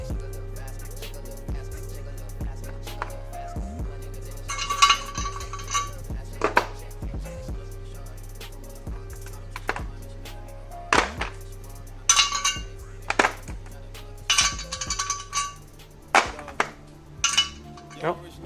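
Metal tools clink and clatter intermittently as a wrench and parts are handled while a Lexus IS300 car is reassembled, sharp close taps scattered over a steady low hum, with someone talking now and then.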